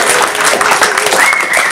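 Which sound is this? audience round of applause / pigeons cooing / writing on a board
audience round of applause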